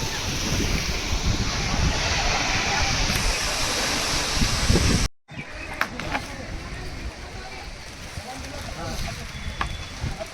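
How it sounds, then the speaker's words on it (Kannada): Water pouring over the rocks at Gokak Falls in Belagavi makes a steady, dense roar, loud and close, broken by a brief dropout midway before the rushing resumes with wind buffeting the microphone. "ಇಲ್ಲಿ ಬೀಳತ್ ನೋಡ್ರಿ ನೀರು."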